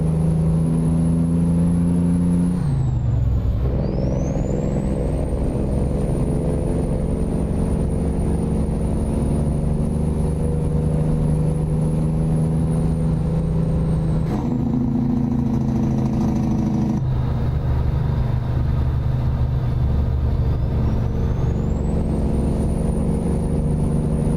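A heavy truck engine in American Truck Simulator drones steadily and loudly, rising and falling as it shifts gears, with a high electronic whine riding on top.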